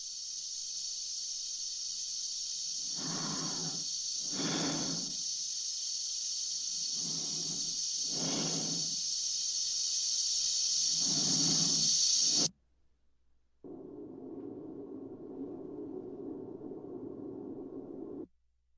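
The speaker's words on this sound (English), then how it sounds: "heavy breathing cuts to silence" Slow, heavy breathing inside a spacesuit from the film 2001: A Space Odyssey, about six drawn breaths over a steady high hiss. The sound then cuts abruptly to silence, followed by a lower, steady electronic hum.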